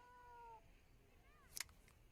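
A house cat named Claude gives a clear rising-and-falling meow, followed by a second, softer meow, with sharp clicks and clatter afterward in a quiet room.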